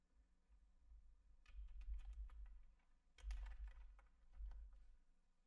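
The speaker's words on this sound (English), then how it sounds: "So I'm gonna hit T and just type out on the keyboard" Clicking keys on a computer keyboard sound close and quiet in uneven bursts of rapid taps, with brief pauses between runs of typing.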